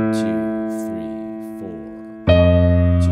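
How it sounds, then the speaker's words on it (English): Jazz guide tone line played over chord changes: a few sustained, clear pitched notes move stepwise from chord to chord, each held and decaying, with a louder fuller chordal attack near the end, close and alone. "if you've ever heard of guide tone lines, which is a technique where you take sort of a long held note and have it voice lead through chord changes"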